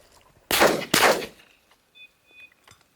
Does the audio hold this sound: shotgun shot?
yes